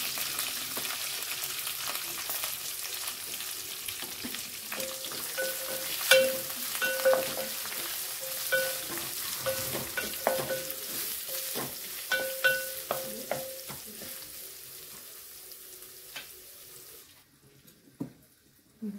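Sliced onion and coriander frying with garlic in a pan for a mung bean usal: a steady sizzle with repeated spoon clicks and scrapes, fairly close, stopping abruptly near the end.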